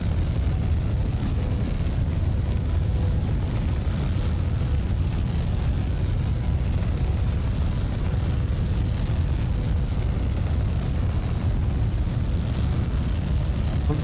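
An aircraft in Kerbal Space Program 2 holds a steady, loud low-frequency roar for the whole stretch. The drone stays continuous and dense, with no pauses or breaks.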